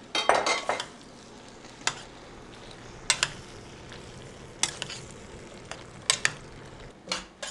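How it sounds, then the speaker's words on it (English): Tomato sauce, corn and beans tipped into a pot of pineapple chilli, with wet plops and scraping stirs followed by scattered clanks of a spoon against the pot over a low simmer, no talking. "So we're throwing in the tomato sauces, the corn, and the beans."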